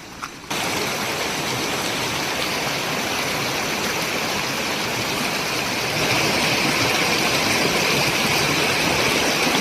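A stream running high after overnight rain rushes steadily and loudly nearby, a dense continuous roar of flowing water that swells slightly toward the end, with no voices.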